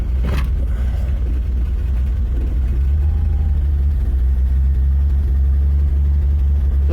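A 1957 Chevy engine that sat unused for 47 years runs with a heavy, low rumbling idle, loud and steady throughout, with a brief rev at the start.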